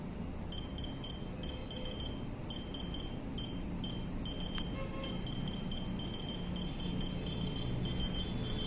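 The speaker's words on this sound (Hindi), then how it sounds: "अब ये अलार्म बजता रहेगा कुछ समय तक" A Klosher digital furniture lock sounds its automatic alarm after repeated wrong passwords, a high-pitched electronic beeping in rapid repeated bursts over a steady low background hum.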